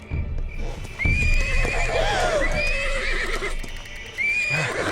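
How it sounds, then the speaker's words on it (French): A pony in the animated Yakari series neighs in agitated, wavering whinnies over a steady rumble of hoofbeats, loud and close throughout. "Raisonne ton poney, Yakari."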